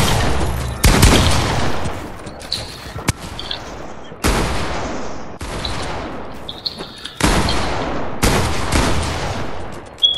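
Gunfire from a mythic weapon in Fortnite rings out in loud, close bursts, about seven sharp shots spaced across the stretch, each cracking hard then tailing off in a ringing decay.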